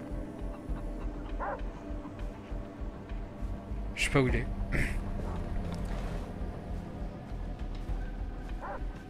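A dog in Far Cry 3 gives a few short yips and a sharp, falling whine, partly masked by steady game ambience and someone talking over it.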